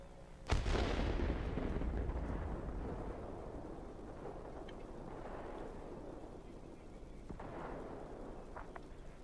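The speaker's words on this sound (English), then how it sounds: "Drop our bomb here." A heavy bomb blast from a Tier VII German Messerschmitt Bf.109Z Zwilling in World of Warplanes, one sudden loud boom that rolls into a long rumbling decay with faint distant pops afterward.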